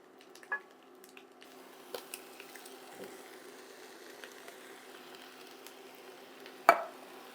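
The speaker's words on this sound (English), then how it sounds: "we're going to mix this all together" Diced canned tomatoes with their juice being stirred into browned ground beef in a pot, a soft steady sizzle with scattered spoon scrapes and a sharp clank near the end, no talking.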